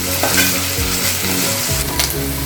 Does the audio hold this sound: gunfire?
no